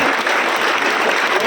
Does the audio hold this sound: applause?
yes